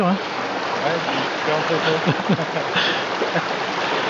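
A small stream flows through a cool, shaded ravine, a soft continuous trickle and burble close by, while a voice and a short exclamation come over it.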